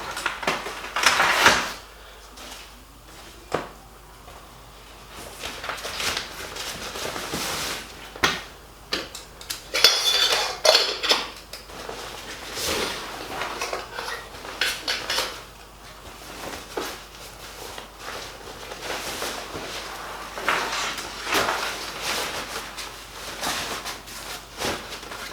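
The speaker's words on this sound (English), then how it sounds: "And then the stove upside down, and the lid on the top." A camping stove and pot lid are packed into a bag, giving scattered light metallic clinks and taps amid rustling of fabric, close by and irregular across the whole stretch, with no speech.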